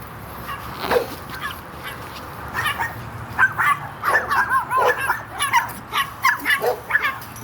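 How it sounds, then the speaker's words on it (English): Several little dogs yap and bark outdoors in quick, repeated bursts close by, with some faint voices in the background. "I got little dogs out here"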